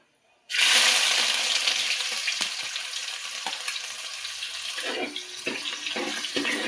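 Ginger hits hot oil with mustard seeds, bursting into a loud, close sizzle after a brief silence, then settling into a steady crackling fry with a few stirring clinks and pops.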